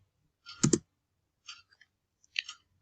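A computer keyboard's Enter key pressed, one sharp double click followed by two fainter key clicks in a quiet room.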